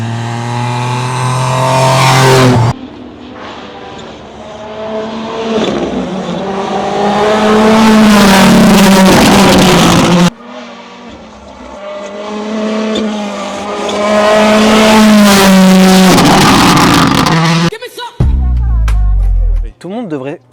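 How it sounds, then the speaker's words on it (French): A rally race car arriving at a Rally Catalunya stage, engine roaring and revving hard through gear changes with tire squeal, loud and close, then a brief burst of clatter as it passes. "c'est la première voiture de course qui arrive"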